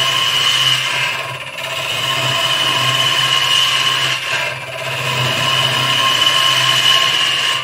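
A wood gouge cuts on a turning lathe: a steady, loud machine hum with a continuous scraping cut, briefly dipping twice as the tool is repositioned.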